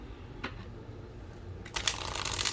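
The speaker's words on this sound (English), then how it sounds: "let's riffle shuffle this sideways" An oracle card deck is riffle shuffled sideways, the cards' edges flicking together in a quick, crisp, close-up ripple that builds into a dense papery flutter after a single earlier snap.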